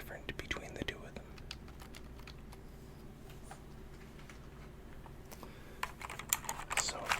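Keys on a mechanical keyboard clicking in a quiet room, with scattered individual presses and a denser burst of typing near the end, close and soft.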